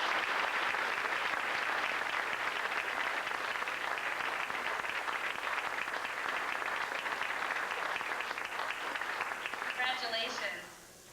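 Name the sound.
banquet audience applauding students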